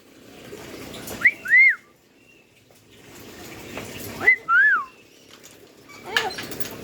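Two short rising-and-falling whistles, clear and close, come a few seconds apart, followed by a fainter chirp, over quiet background murmur.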